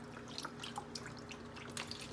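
Liquid is poured into a turkey roasting pan to make gravy, with faint trickling and scattered small drips and splashes over a low steady background.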